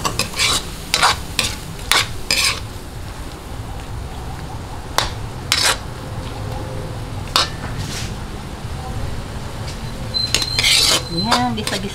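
Seasoning, annatto and shrimp for lumpiang hubad sizzle in a hot pan while a utensil scrapes and stirs in irregular bursts, with occasional metallic clinks of cookware.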